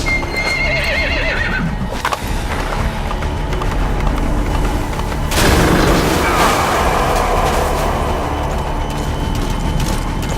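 Gunfire booms through a Metal Gear Solid V battle scene, a heavy blast arriving midway over a loud, dense mix of horse neighing and galloping hooves, with no voices.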